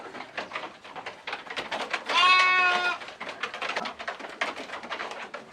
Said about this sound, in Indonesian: Ini kan banyak kambingnya.